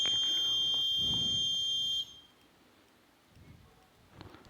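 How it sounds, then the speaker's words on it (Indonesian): A prayer-time clock emits a steady high-pitched beep lasting about two seconds, then cuts off, leaving quiet room noise with faint movement. "Maka akan bunyi bip aja."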